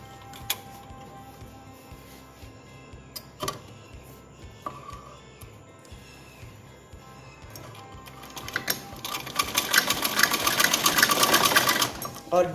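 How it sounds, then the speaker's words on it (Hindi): A sewing machine runs a temporary basting seam across the fabric of a yoke frock, its rapid rhythmic stitching close and steady, growing louder and busier toward the end, with someone speaking over it. "अब हम यहाँ से यहाँ तक जो है कच्ची सिलाई लगाएंगे"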